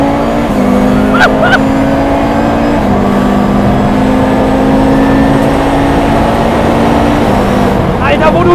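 Race-track engine drone from a KTM X-BOW GT-XR or Porsche 992 GT3 RS, loud and steady with pitch steps marking hard gear shifts, and someone talking over the car noise.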